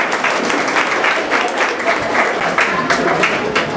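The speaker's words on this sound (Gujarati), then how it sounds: "તાળીઓના ગડગડાટ હજી એકવાર જોરથી." A school alumni reunion audience of the 1996 batch bursts into dense, loud applause that carries on steadily throughout, with no talk above it.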